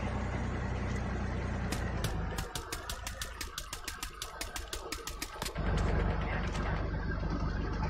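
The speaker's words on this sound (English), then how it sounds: "That tank is really loud." A rumbling tank engine in the mobile shooter game Call of Duty Mobile, a steady mechanical drone broken midway by a rapid series of clicking, rattling bursts before the low roar swells back.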